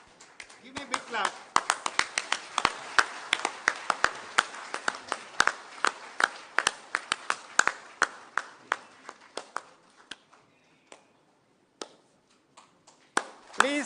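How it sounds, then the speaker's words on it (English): A live audience claps at a corporate stage event as guests are welcomed, with dense sharp applause that thins toward the end into scattered claps, and a speaking voice runs underneath. "Give me a big clap."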